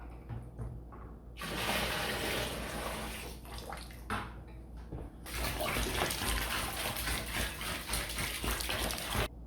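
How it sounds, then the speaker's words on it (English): Hot water pours and splashes steadily to rinse honey out of a container for making mead. The rush of water is fairly close, with a short lull and brief drips midway before the flow resumes, and there is no talk. "I'm just gonna use some hot water to get the honey out of here so I can pour it over."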